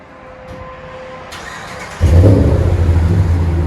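From inside the cab, a RAM 1500 5.7L pickup's engine catches and revs, its Flowmaster Outlaw cat-back exhaust rumbling deep and loud after a quiet idle.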